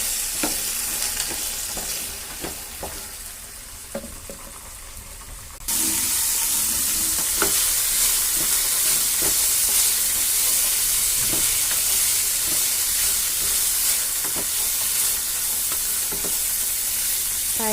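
Chickpeas (chana) frying in a pan after tempering, with a continuous loud sizzle and frequent stirring scrapes and taps against the pan, the sizzle jumping louder partway through.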